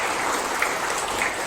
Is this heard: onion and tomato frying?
no